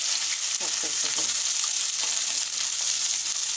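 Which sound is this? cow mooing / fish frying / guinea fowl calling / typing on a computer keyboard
fish frying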